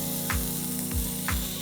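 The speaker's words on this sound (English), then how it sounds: "And when I hear that sizzle," Beef sizzles in a pan of hot oil over low heat, a continuous close hiss with a few brief swelling bursts and no voices.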